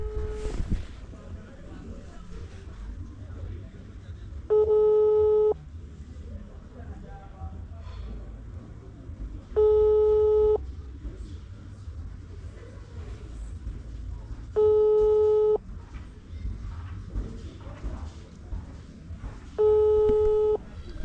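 An unanswered phone call's ringback tone sounds as four evenly spaced steady beeps, about one second each at five-second intervals, loud and clear above a continuous low background rumble with no one talking.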